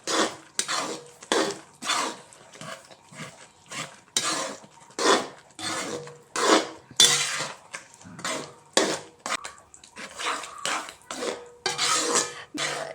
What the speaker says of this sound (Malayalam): നെയ്യ് ചേർത്ത് നല്ലതായിട്ട് വീണ്ടും ഇളക്കുക